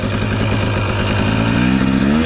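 A 2023 KTM 250 XC dirt bike engine revs loud and close, a continuous buzzing two-stroke roar that climbs in pitch as the throttle opens, with no one speaking.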